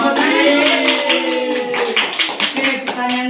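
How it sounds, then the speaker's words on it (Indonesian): Children and adults clap together at a cheerful Sunday school gathering, a dense burst of applause running the whole time with talking and excited voices mixed in. "Tepuk tangan lagi."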